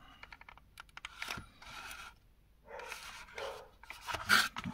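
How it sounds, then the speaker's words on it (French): Dogs bark in the background, faint and intermittent, mixed with close clicking and handling noises. "Désolé du bruit des chiens qui aboient."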